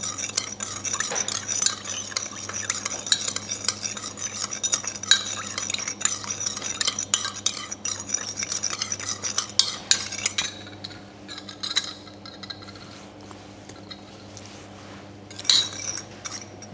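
Summer roll dipping sauce being stirred in a pot or bowl until mixed and melted, a steady run of soft scraping and light utensil clinks, close, alone, thinning out toward the end.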